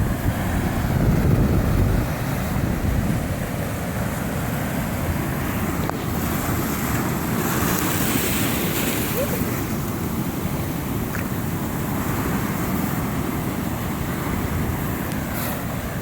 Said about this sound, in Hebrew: תראו איזה גלים ענקיים.